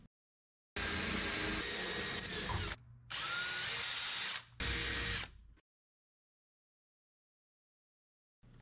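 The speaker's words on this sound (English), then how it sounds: "Now we can stick and drill our holes." A power drill whirs in three bursts while drilling holes for mounting a solar battery charger on a car roof, the first long and the next two shorter, loud and close with short pauses between.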